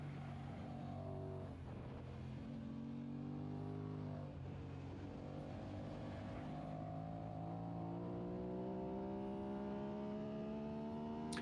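A racing motorcycle on a track revs hard through a lap, its engine note climbing and dropping through gear changes under constant wind roar, close and loud throughout.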